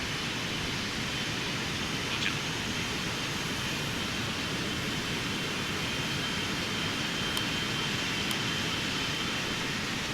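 Air New Zealand Boeing 777-300ER engines roar at Heathrow during the takeoff roll, heard from inside the cabin as a steady, dense broadband rush with a constant droning hum and a few faint ticks.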